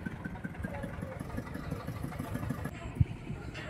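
A boat engine hums low and steady on Dumboor Lake, a faint, distant drone with a light clatter and one brief knock near the end.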